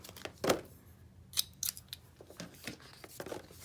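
Scissors snip through the tape sealing a planner sticker box, a few quiet, crisp cuts with small rustles and handling noises between them.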